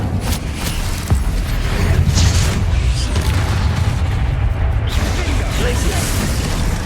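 The Incendio fire spell in the Hogwarts Legacy video game gives off a loud rumbling whoosh of flame with low booming and crackling impacts layered through a sustained roar.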